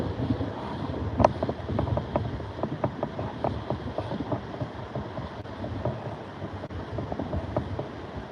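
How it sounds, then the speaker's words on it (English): Wind gusts steadily across a microphone at a lakeshore during trout fishing, a continuous loud rumbling roar with small clicks and knocks mixed in and no speech. "Every once in a while we get a gust of wind."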